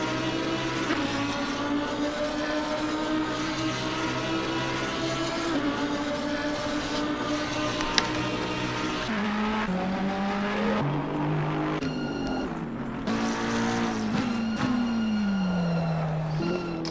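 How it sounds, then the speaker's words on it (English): Lamborghini and Audi R8 race cars lapping Bathurst in Assetto Corsa Competizione, engines screaming steadily and shifting pitch through gear changes, with high whining harmonics over a continuous drone and no talk. "As these two go down for another lap through Hell Corner, can Bo Ersma in that Lamborghini keep up with the Audi R8 of Kieran Fox?"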